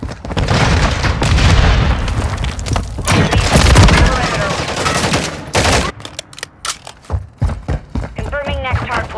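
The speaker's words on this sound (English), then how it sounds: "Stun grenade out!" A stun grenade goes off in Call of Duty Modern Warfare III amid dense, loud gunfire and booming blasts, with rapid shots continuing and voices heard within the chaotic battle noise.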